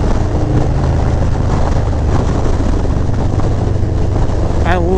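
A Harley-Davidson Milwaukee 8 V-twin fitted with an S&S 475c cam is heard while riding, a loud, steady, deep engine rumble mixed with heavy wind rush that continues without a break.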